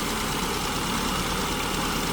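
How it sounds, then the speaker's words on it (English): A richly fueled car engine with an SU carburetor idles at about 1100 RPM, a steady, dense low rumble held evenly throughout with no breaks or talk. "the engine sounds really strong. It's almost 1100 RPMs on the tachometer, but the fueling is way too rich."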